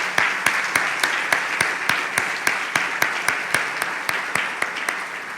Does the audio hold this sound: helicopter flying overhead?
no